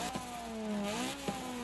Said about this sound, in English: I just wanted a second to listen to this car.